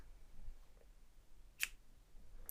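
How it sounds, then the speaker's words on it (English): A single crisp snip of scissors cutting through crochet waste yarn sounds close up in a quiet room, followed by a faint second click. "So I'm going to cut this yarn."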